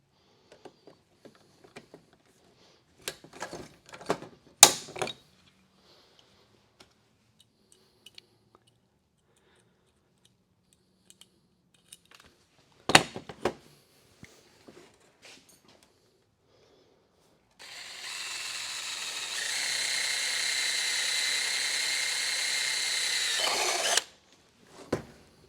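A power drill bores holes through sheet metal: scattered clicks and handling knocks give way to a steady, high-pitched drilling whine lasting about six seconds before cutting off abruptly, with no talking.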